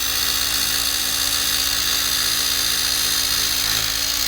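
A Rupes iBrid Nano polisher with a 12mm orbit whirs at a steady high-pitched drone while polishing a Ford Raptor, loud and close with no speech.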